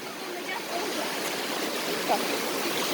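The Mumlava waterfall and its river stream rush in a steady, broad roar of tumbling water, close and continuous for a few seconds.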